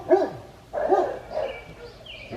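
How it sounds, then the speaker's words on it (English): Neighbors' dogs bark outdoors in a garden in May, three or four distinct barks spaced about half a second apart, moderately loud and somewhat distant, with no talking over them. "Sorry about the dogs."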